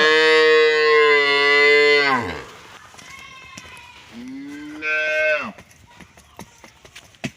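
A milking dairy cow lets out two loud, drawn-out moos close by, the first long and falling, the second shorter after a pause.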